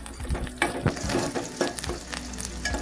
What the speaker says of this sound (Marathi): एक 2 मिनिटं कांदा भाजून घ्यायचा. थोडासा कलर लालसर झाला पाहिजे.